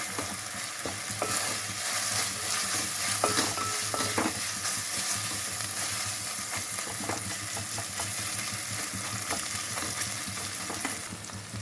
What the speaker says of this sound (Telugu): ఆయిల్లో బాగా ఫ్రై అవ్వాలి. పచ్చి వాసన లేకుండా ఫ్రై అవ్వాలి.